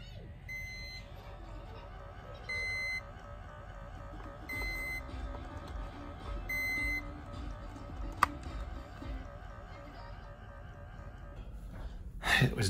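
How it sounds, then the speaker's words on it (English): A home device, likely an infant feeding pump, chirps a low-battery warning in short repeated beep bursts spaced a couple of seconds apart, fairly faint indoors against a steady background hum. "it sounds like Hudson's water's beeping"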